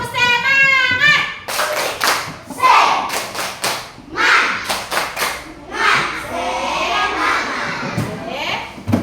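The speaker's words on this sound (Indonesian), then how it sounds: "Tepuk semangat!" Schoolchildren in a classroom perform a rhythmic spirit clap, bursts of sharp group claps in patterned sequences separated by short pauses, with children's voices chanting along between and over the claps.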